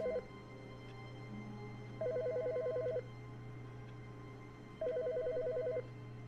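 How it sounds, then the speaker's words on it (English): A telephone in the video game The Stanley Parable rings in three evenly spaced bursts of rapid electronic trilling, moderately loud over a low steady hum, with no voices. "Why do you hear a phone call?"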